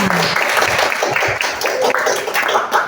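A classroom of children clapping their hands together in a lively burst of applause, mixed with a teacher's voice and children's chatter.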